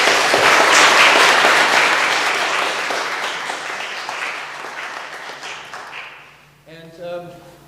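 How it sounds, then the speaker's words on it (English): A church congregation at Christ Church in Dartmouth, Nova Scotia gives a round of applause. The clapping starts loud and full, then gradually thins and fades until a voice begins speaking near the end. "Please give them a round of applause as well"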